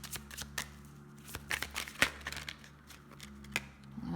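Tarot cards being handled and shuffled, with soft crisp flicks, slides and taps in an irregular rhythm, close and fairly quiet.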